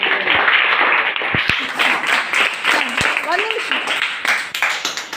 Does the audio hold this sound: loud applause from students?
yes